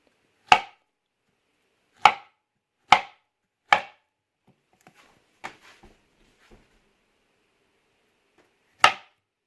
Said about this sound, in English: you're going to want your sharpest knife for this, as bananas can be a little bit tough, but you want to slice them